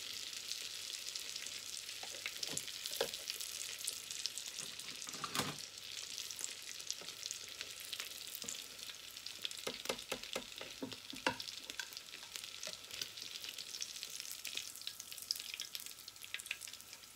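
Gluten-free croques monsieur fry in butter in a pan with a steady close sizzle, scattered crackles and pops throughout, and no voices.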